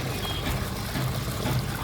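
Water gushes steadily from a 3000W BLDC borewell pump motor after servicing, a continuous close pouring and splashing with a constant low rumble beneath.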